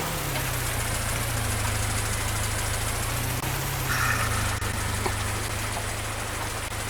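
In Farming Simulator 19, a farm vehicle's engine drones steadily and loudly at a low pitch, holding a constant note with a slight rise partway through as it drives toward a field.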